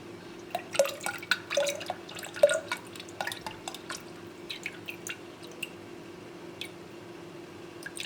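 Mixed Dryfix tile paint is poured into a container, heard as a quiet series of irregular drips, splats and soft liquid ticks against a faint steady background hum.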